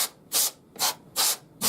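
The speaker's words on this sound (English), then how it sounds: "just by spraying back to front" Compressed-air or cleaner spray blasts debris out of a machine's gear mechanisms in four short, loud hissing bursts with brief pauses between them during routine maintenance.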